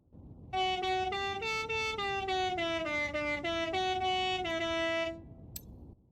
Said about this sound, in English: The Ode to Joy sounds like this.